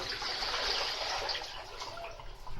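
Water poured into a pot while cooking a sour pickled greens dish, a steady, soft splashing rush that runs the whole time at moderate level, close by and without speech.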